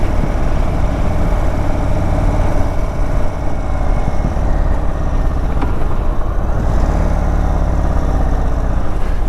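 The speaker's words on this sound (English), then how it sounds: "it's got a good engine note." A 2022 Indian Chief Bobber Dark Horse motorcycle engine revs steadily and close by, a continuous rumbling drone that holds level throughout with no voices over it.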